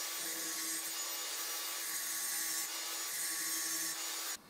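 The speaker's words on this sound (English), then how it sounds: "while I've got the angle grinder out, I might as well smooth over where these old holes are" An angle grinder smooths over old drilled holes in a reclaimed pole, giving a steady, loud, continuous abrasive whine with a high hiss that holds for several seconds before cutting off abruptly near the end.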